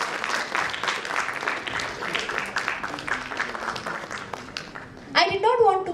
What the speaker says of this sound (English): May I have a huge round of applause?